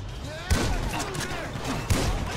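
Gunfire in Grand Theft Auto V during a first-person shootout, with two sharp loud shots about 1.4 seconds apart cutting through dense game noise and background chatter.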